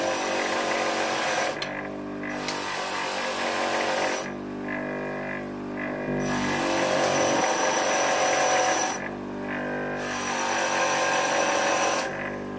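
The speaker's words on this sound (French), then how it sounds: "On va passer à la brosse métallique pour enlever la rouille." A rotary wire brush on a power tool scrubs rust off a screw from the rear shock absorbers of a Mercedes C180, loud and close, in long whining runs with short pauses between passes.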